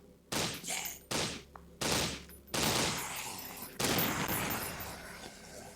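Gunfire in the video game Rake, with several sharp, loud shots at uneven intervals, each ringing out into a longer echoing roar.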